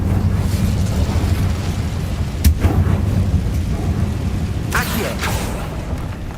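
Fire spell blasts in Hogwarts Legacy, a sharp crackling burst followed later by a second fiery whoosh and crackle over a steady low game rumble.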